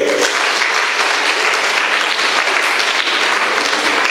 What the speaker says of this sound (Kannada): ಚಪ್ಪಾಳೆ ಕೊಡಿ ಅವರಿಗೆ